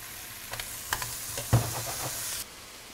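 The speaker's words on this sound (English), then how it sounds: "Straight back on the heat, just give them a stir." Quiet sizzle of onion and garlic frying in oil, with a few soft scraping stirs and clicks of the spoon against the pan before the sizzle cuts off.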